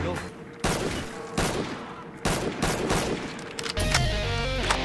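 Video game gunfire in Call of Duty Zombies: several loud, sharp shots at irregular intervals, ending in a quicker burst, heard up close over a murky game backdrop.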